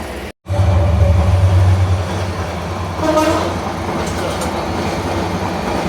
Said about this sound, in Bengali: আমাদেরকে এখন কক্সবাজার এক্সপ্রেস ওভারটেক করে যাচ্ছে